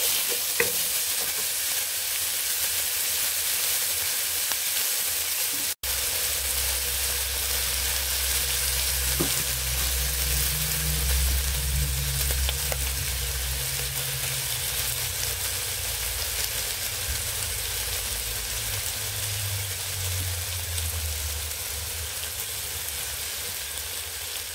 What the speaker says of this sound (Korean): 여기 들어있는 호박을 넣고 볶으세요